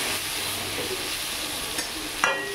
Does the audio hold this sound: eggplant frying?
yes